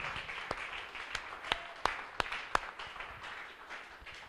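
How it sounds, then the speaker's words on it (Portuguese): A church congregation claps faintly during a sermon, with scattered sharp individual claps over a quiet, distant background of softer clapping. "Quem está entendendo, aplaude."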